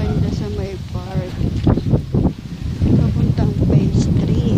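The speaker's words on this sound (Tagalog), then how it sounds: "napakalakas ng hangin kahit mainit" Strong wind buffets the microphone outdoors near a park on a hot day, a rough, low rumbling roar that gusts and surges throughout while someone talks over it.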